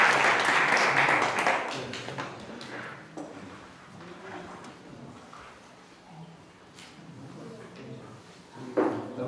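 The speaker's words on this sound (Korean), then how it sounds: "우리 목사님도 우리 박수로 환영하시겠습니다" Audience applause welcoming a pastor at a church evangelism case presentation: a dense burst of clapping in the opening seconds that quickly dies away into quieter room noise, with a short rise again at the very end.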